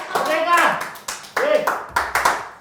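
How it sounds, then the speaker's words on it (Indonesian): Studio guests on an Indonesian talk show clap in short, sharp bursts, close and loud, with a voice speaking over the start. "Tepuk tangan!"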